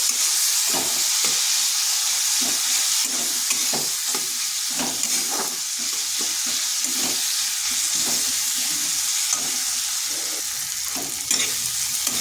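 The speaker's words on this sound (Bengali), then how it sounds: "মশলাটাকে একটু সময় ধরে কষিয়ে নিয়েছি" Masala spice paste with a splash of water sautéing in a pan for a cauliflower dish, a steady close sizzle with frequent stirring scrapes and knocks throughout.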